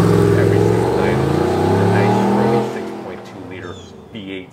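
A full-size SUV's 6.2-liter V8 roars loudly and steadily up close, then drops away and fades, leaving quieter rumbles and scattered noises.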